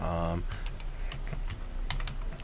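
Close, quick keystrokes clatter on a computer keyboard as a document title is typed, a rapid irregular burst of clicks following a short tone at the start.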